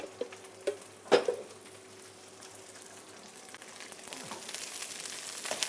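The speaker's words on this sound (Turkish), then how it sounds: "Hemen sesi geliyor cız diye." A few utensil clinks open, then a faint hiss of onions and peppers frying in oil builds and sizzles steadily toward the end.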